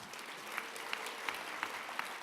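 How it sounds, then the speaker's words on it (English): Audience applauding at an awards ceremony, a steady, moderately distant wash of clapping that holds evenly throughout with a few sharper individual claps standing out. "do give him a round of applause"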